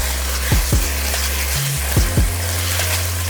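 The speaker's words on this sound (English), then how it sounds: "Now we're just gonna mix that garlic in there." Minced garlic sizzling in a pot of soup while being stirred, a soft steady frying hiss with a few low knocks and scrapes of the spoon, close and without talk.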